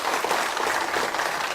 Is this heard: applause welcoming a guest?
yes